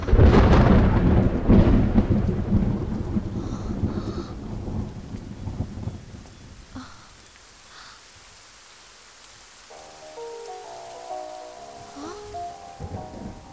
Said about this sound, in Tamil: இந்த மழையும் எனக்காக தான், வர்ஷாவும் எனக்காக தான்.